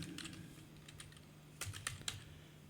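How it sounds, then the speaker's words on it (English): Quiet computer keyboard keys being typed while entering LaTeX commands, a few faint scattered taps early and then a short cluster of sharper keystrokes near the end, alone with a steady low hum underneath. "I'm gonna type begin,"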